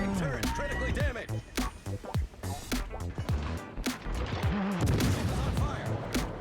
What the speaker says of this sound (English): there's really not much else to do than fire on him and try and sink him